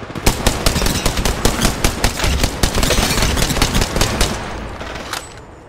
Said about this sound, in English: Opening fire. Enemy agent right here.